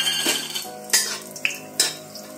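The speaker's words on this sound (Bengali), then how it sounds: "বড়িটা প্রথমে ভেজে নিচ্ছি," Bori lentil dumplings fry in hot mustard oil, a soft steady sizzle broken by a few sharp clinks of a utensil against the pan, close and fairly quiet with no talking.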